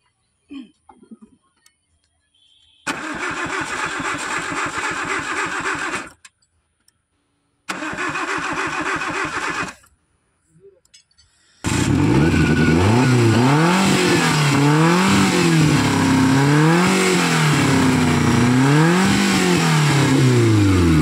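A Chevrolet car is started after a fuse repair: two loud cranking attempts with pauses between them, then the engine catches and revs up and down repeatedly, a loud, close, sustained roar.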